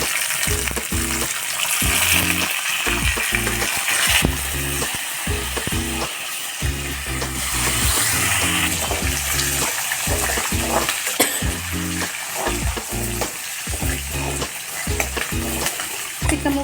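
Grated amla, curry leaves and capsicum frying in a pan for amla rice, a steady sizzle broken by repeated scraping stirs of a spoon against the pan, close and clear with no talking.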